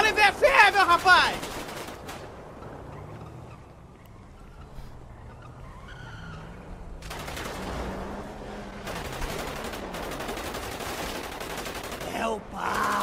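Bursts of gunfire in a GTA roleplay game, loud volleys at the start and again in the second half, with vehicle noise and a quieter stretch of voice chat in between.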